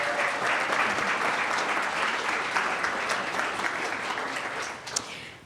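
Audience applause at a startup demo day, honoring Emma as she stands: steady, dense clapping from a crowd that holds for several seconds, then thins out, with a few sharper claps near the end.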